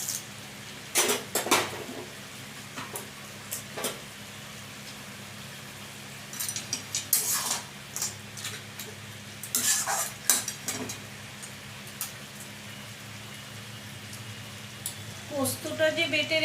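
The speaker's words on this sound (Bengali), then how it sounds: "এবার আমি ভাজা বড়িগুলো দিয়ে দিচ্ছি।" Fried lentil dumplings are added to a pan of bottle gourd greens and stirred, with scattered scrapes and clinks of a spatula against metal over a low sizzle, some bursts clustered and others spaced apart, nearby.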